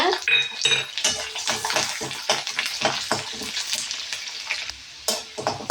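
Garlic dropped into a pan of popping mustard seeds sizzles and fries steadily, with clinks and scrapes of a utensil against the pan throughout, close and fairly loud.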